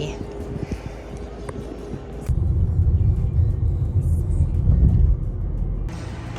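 A car drives a short trip through a Japanese neighbourhood, heard from inside as a steady low road rumble that swells louder and fuller about a third of the way in and holds there.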